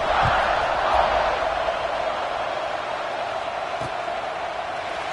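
A large stadium crowd roars steadily at a Florida football game after a scoring drive, a broad continuous wash of cheering with a couple of faint thumps.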